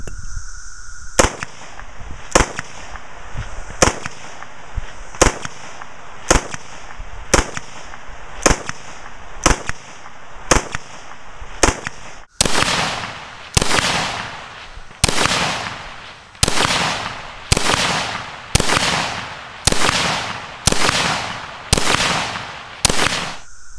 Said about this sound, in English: M16 to show you what the sound suppression is like. We're going to test it unsuppressed first